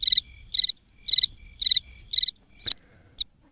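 Cricket chirping in short, evenly spaced bursts, five rapid trills followed by a couple of sharper isolated chirps, close and clear against a quiet background with no talking.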